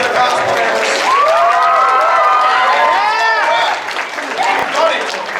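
Crowd at an anime festival in Lafayette, Louisiana cheering and clapping loudly for the cosplayers, with whoops and high shouted voices rising over continuous applause.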